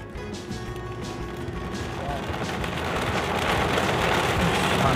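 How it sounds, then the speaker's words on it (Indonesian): Rain begins drumming on a car driving along an elevated toll road between Jakarta and Yogyakarta, Indonesia, a dense patter that swells steadily louder over the cabin hum and covers the whole stretch. "inilah akhirnya turun hujan sob"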